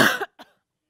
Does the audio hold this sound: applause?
no